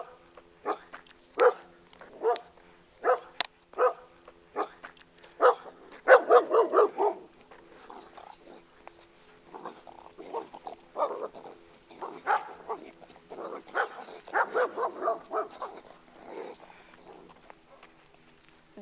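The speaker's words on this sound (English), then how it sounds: "And then here comes these evil dogs." Several dogs bark in short, separate bursts, some quick clusters of yaps among them, over a steady high insect or cricket drone outdoors.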